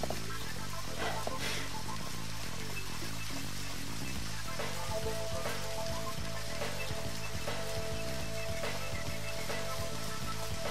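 Steady rain patters and hisses over a vehicle in motion in the video game Deadly Premonition, with a low rumbling engine underneath and faint tonal game music drifting in and out.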